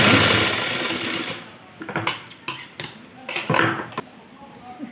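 A sewing machine stitching a waistband casing on a small dress for a Laddu Gopal idol, opening with a sustained whirring run, then several short separate bursts of stitching with pauses between them, close and moderately loud.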